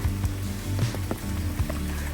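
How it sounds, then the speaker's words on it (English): Hard rain falling on the Appalachian Trail in Maryland, a continuous soft wash of patter with a few louder drips, fairly quiet and alone. "it's raining pretty hard"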